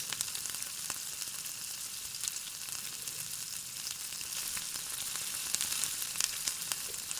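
Chicken frying in a pan with salt, sugar, black pepper and dark soy sauce, a faint steady crackling sizzle with tiny pops throughout and barely any stirring, no talking.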